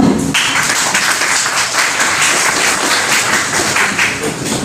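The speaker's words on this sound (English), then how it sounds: "Let's give them a big round of applause." An audience gives student presenters a round of applause: dense, steady clapping with scattered sharp taps fills the whole stretch, close and fairly loud.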